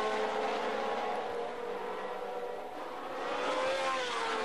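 Formula 1 race cars of 1970 roar at the start of the Mexican Grand Prix, a steady, loud blur of high-revving engines with a slight dip and swell in the middle, no voices over it.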